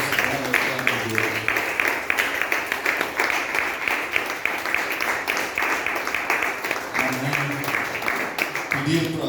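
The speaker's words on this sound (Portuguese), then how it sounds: "Uma salva de palmas para o nosso grande Deus." A church congregation applauds together at a worship service, a steady dense wash of many hands clapping that fills the whole stretch at close range, with some voices mixed in.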